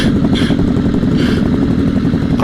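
A motorcycle rides through city streets, its engine a loud, close, steady throbbing rumble with a rapid pulsing beat and brief rising revs.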